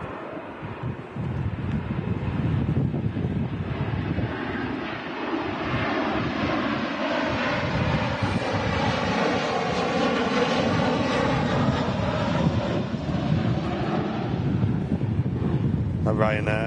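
An airplane departs Manchester Airport in storm winds, its jet engines roaring loudly and steadily throughout, mixed with gusty wind buffeting the microphone.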